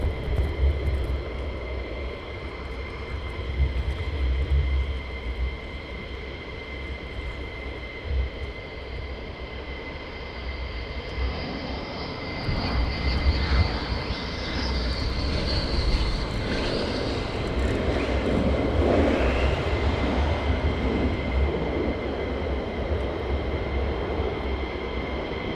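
A fighter jet coming in to land at RAF Lakenheath roars from a distance, its engine drone swelling steadily louder over the second half and peaking near the end.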